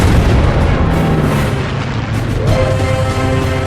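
A Vietnam-era A-1 Skyraider's guns fire high-explosive rounds at a MiG during a dogfight, a loud, continuous roar of heavy gunfire and booming impacts with no pauses and no talking.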